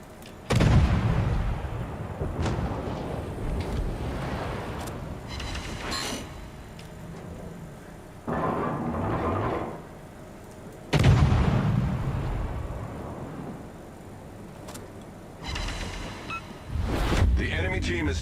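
Naval guns in the World of Warships video game fire salvo after salvo in heavy, booming bursts every few seconds, with someone talking over the battle.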